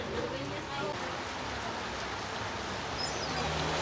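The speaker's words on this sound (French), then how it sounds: "Pluie tropicale, autant que t'en veux." Tropical rain pours steadily outdoors as a dense, even hiss of drops on surfaces, loud and continuous throughout, with a faint voice underneath.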